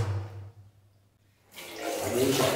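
Utensils being washed: a short gush of running water, a near-silent pause, then water pouring again more strongly, close and fairly quiet.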